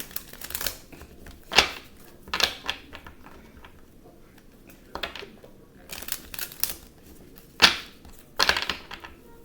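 Tarot cards are shuffled by hand in a series of sharp crisp riffling bursts separated by short pauses, close and fairly quiet, with no talking.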